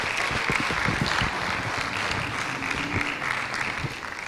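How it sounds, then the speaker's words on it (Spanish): Church congregation applauding together, a dense steady clapping that fills the room at an even level throughout, without pause. "Ahora dele un buen aplauso"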